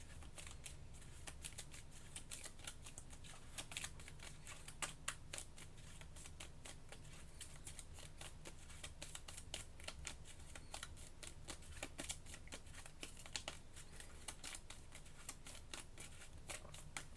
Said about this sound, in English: Let me shuffle this up.